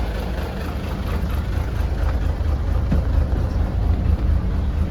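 A front-engine single-class bus sits idling nearby, a steady low engine rumble with a continuous droning hum and no speech, holding an even level throughout.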